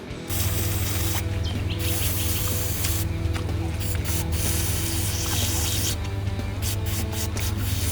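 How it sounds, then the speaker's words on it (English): Degreaser sprays onto a 52cc line trimmer motor outdoors with a steady, close hiss, broken by a few short gaps and faint mechanical clicks. "throw some degreaser on there to get rid of that"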